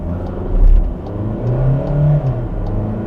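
A VW Caddy diesel accelerates hard from a standstill in sport mode, its engine note swelling loud and close as it revs up through a sustained pull over several seconds.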